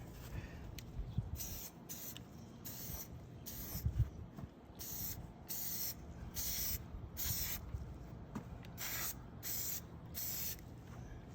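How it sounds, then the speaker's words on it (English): Repeated short hissing bursts of an aerosol glue spray can applied to a pendant lampshade, each a second or so long with brief pauses, close by and fairly quiet. "I'm gonna spray a generous portion of glue"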